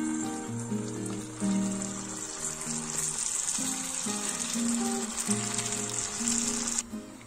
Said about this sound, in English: Now you should deep fry these potato bites until they turn into golden brown.